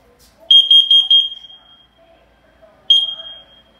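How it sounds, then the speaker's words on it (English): A carbon monoxide alarm under test sounds a loud, close run of rapid shrill beeps, pauses, then starts another beep burst, in an otherwise quiet room. "Warning, carbon monoxide."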